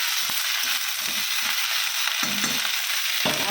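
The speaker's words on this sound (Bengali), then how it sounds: "আর কুমড়ো ভাজা, কালো জিরে দিয়ে শুকনো লঙ্কা দিয়ে দিয়েছি।" Pumpkin pieces fry in hot oil with nigella seeds and dry red chillies, giving a steady bright sizzle over several seconds with a few soft stirring scrapes and small pops in between.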